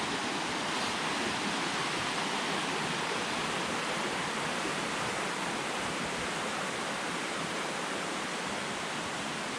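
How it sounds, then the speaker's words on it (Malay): Jeriau waterfall at Fraser Hill pours in a dense, unbroken roar of rushing water, loud and close, steady from start to finish with no voices. "Air terjun Jeriau."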